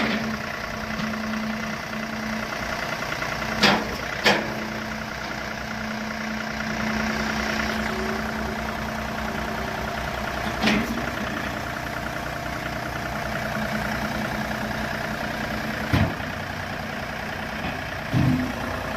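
2014 John Deere 3039R compact tractor engine running steadily at slow speed, a constant mid-to-low drone heard close by with a few brief clicks and knocks over it, and no talking.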